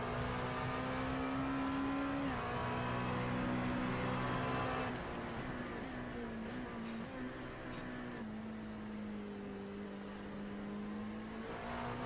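A car engine held at half throttle drones steadily and up close, with a sustained harmonic tone that dips slightly midway and then settles at a constant pitch.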